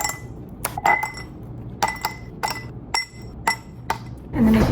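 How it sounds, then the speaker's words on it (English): Ice cubes go into a cup one after another in a home kitchen, each landing with a sharp, close clink in an uneven rhythm, about half a dozen in all, with no talking. "So I'm just gonna put some ice cubes in my cup."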